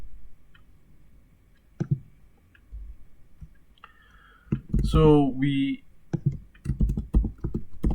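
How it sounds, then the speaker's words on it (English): Computer keyboard typing into a Jupyter notebook: scattered soft key clicks in a quiet room, then someone talks over further tapping. "I changed the text and I start typing"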